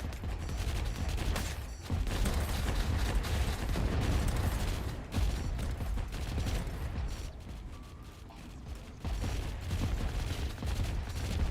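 Sniper gunfire and battle noise in the real-time strategy game Rogue Command, a dense, steady wash of shots and explosions with brief lulls, loud and continuous with no talk.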